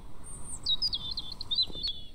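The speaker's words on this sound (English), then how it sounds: "Little suburban birds out chirping." Suburban birds chirping in the Night of Carnage game, a faint high twittering song of quick, warbling tweets running continuously over quiet background.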